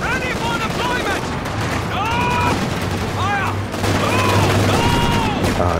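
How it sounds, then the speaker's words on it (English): Machine gun fire crackles through a Company of Heroes 2 battle as steady bursts of rapid shots sit under a dense wash of game audio, with voices and harmonic effects layered over the continuous fighting. "That MG is killing us."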